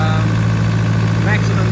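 A car engine held at a raised idle with a 270Ah lithium start battery in the engine bay, a loud, steady, continuous drone with a constant low hum and no talk over it.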